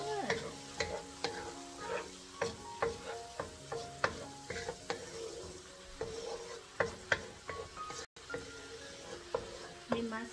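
Metal utensil stirring and scraping in a pan with repeated sharp clinks, over a soft continuous sizzle of shrimp frying.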